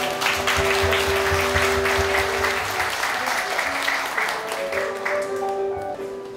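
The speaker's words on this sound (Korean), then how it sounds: "여러분 뜨거운 박수 부탁드립니다" Sustained applause from an audience at an invited-guest meeting, steady and dense throughout as honoured guests are introduced, with faint tonal music beneath and tapering slightly at the end.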